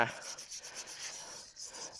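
A brush spreads hormone paste onto the bark of a rubber tree with steady, close scratchy rubbing strokes in a repeating rhythm, with no one talking.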